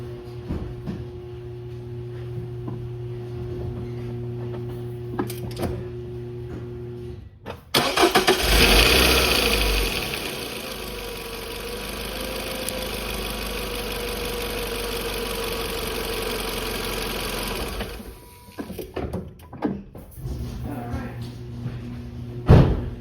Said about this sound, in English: And let's go make sure the car runs still.